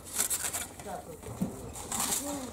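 Pigeons coo softly and intermittently in a rooftop dovecote, with faint wing flaps and background murmur beneath the birds.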